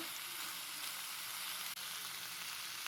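Broad beans are stir-fried with cumin powder in a pan, giving a steady, close sizzle that runs unbroken except for one tiny dropout.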